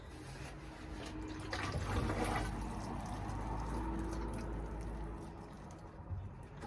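Water running from a tap indoors while someone fills a container, a soft steady rush that swells in the middle and then eases, heard faintly with no talking.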